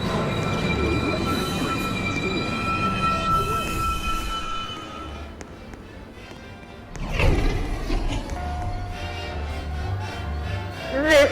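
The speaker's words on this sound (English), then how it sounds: "This is a Rector Street bound 1 train." A New York City subway 1 train rumbles near Rector Street, with a steady roar and tonal hum, then a loud surge of wheel and brake noise partway through, close up and continuous.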